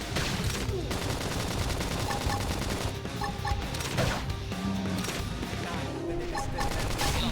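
Dense, continuous gunfire rattles through a battle in the video game Xenoblade Chronicles X, with rapid overlapping bursts held at a steady high level and no gaps.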